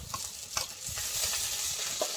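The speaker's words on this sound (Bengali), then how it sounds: "এবার আমি আদা রসুন বাটা দিয়ে দেবো" Ginger-garlic paste sizzles with frying onion in a pan as a spoon stirs it in several soft scraping strokes, over a fairly quiet, constant hiss with no voices.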